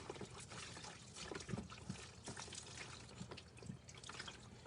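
Running water rinses a peppermint scrub off hands, a steady splashing trickle with small irregular spatters, faint and continuous throughout.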